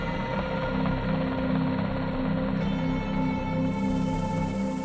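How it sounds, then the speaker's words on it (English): An HS-60 Seahawk military helicopter leaves the aircraft carrier Nimitz, giving a steady, droning rotor and engine roar that holds at an even loudness throughout. "soon board an HS-60 Seahawk helicopter and leave Nimitz"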